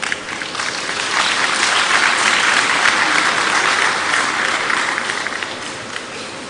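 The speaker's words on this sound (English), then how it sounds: "A round of applause for him once again for such an insightful session." Audience at the Digital Nigeria International Conference 2023 applauds after a session, a dense, steady wash of clapping that swells and holds loudly for several seconds with no voices over it.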